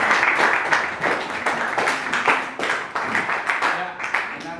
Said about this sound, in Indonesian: Kita kasih tepuk tangan untuk sekalian.